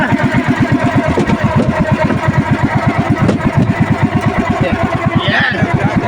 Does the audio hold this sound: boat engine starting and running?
yes